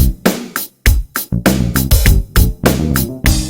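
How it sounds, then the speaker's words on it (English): Bright shaker hits mark the beat of a homemade song, sounding as short crisp accents over choppy rhythmic chords and bass for a few bars. "As well as some shaker sounds, which I always love."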